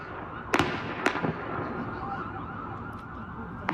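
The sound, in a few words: gunshots in local TV news footage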